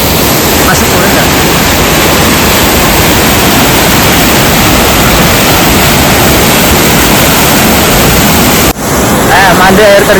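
A waterfall in Japan roars as a loud, unbroken broadband rush filling the whole stretch, close and overwhelming, with a brief dip and a faint voice near the end.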